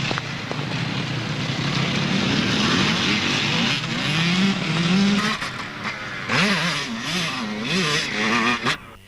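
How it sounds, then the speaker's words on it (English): A Honda 125 enduro motorcycle ridden by a young rider at the 2005 Welsh Two Day Enduro, its engine revving loudly and close, with pitch rising and falling through repeated throttle bursts and gear changes. "He was riding a Honda 125."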